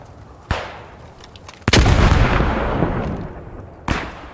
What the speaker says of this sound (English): Throwing grenade under the bush line